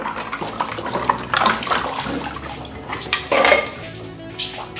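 Containers and dishes being washed under running tap water in a home kitchen sink, with splashing water and repeated clinks and knocks of utensils and lids, close and fairly loud.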